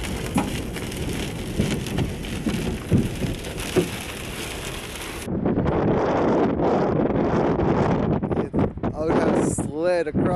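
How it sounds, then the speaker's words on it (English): Strong wind gusts roar and buffet the microphone in a January rain storm, with rain and rustling throughout; the noise is loud and continuous, shifting to a harsher, more turbulent gusting partway through, with a voice speaking in places. "It's so windy, it moved my truck."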